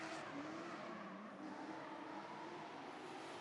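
A drifting race car at a drift competition at Arena Națională, a steady, fairly faint roar of engine and tyre squeal heard from a distance without any clear impact.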